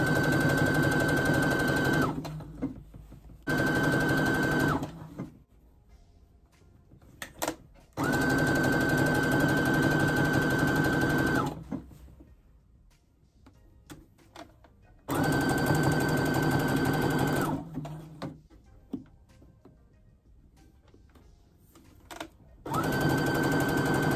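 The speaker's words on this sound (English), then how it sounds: "So here I'm sewing it now, attaching the neck band to the dress" A sewing machine attaches a neck band to a wrap dress in several loud, close bursts of rapid stitching lasting a few seconds each, separated by quiet pauses with faint handling noises.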